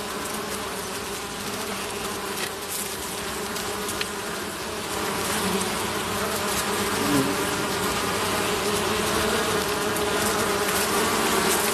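Honeybees buzzing inside their hive, a thick continuous drone of many insects close by, steady throughout with a slight swell in loudness partway.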